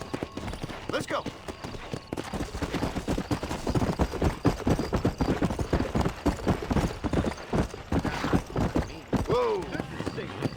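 Horse hooves galloping in the video game Red Dead Redemption, a steady rapid clip-clop running throughout, with someone talking over it and a brief whinny near the end.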